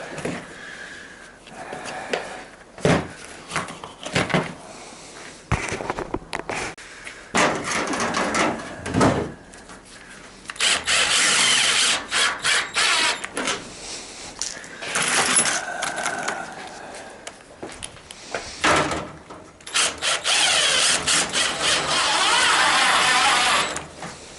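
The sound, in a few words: impact driver driving screws into aluminium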